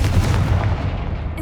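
A Confringo blast spell in the Hogwarts Legacy video game, a single loud booming explosion with a deep rumbling decay, close and unaccompanied by talk.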